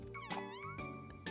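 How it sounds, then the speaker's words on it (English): A cat meows repeatedly in the video game OMORI, several clear, close meows in quick succession over soft game music, with no talking. "I love the kitty noises"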